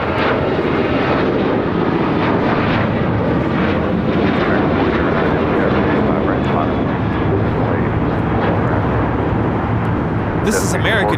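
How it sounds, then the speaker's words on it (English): An American Airlines Boeing 737-800 takes off at LAX, bound for Puerto Vallarta, its engines producing a loud, sustained, close roar that holds steady throughout, with a voice faintly present beneath. "This is American Airlines 764 taking off to Puerto Vallarta on a 737-800."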